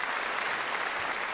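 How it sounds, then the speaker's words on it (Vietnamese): The audience of a Vietnamese rice-farming quiz show applauds a team in a brief, steady burst of dense clapping throughout. "chúng ta hãy dành một tràng pháo tay để cổ vũ tinh thần cho đội Hương Lúa Hậu Giang nha"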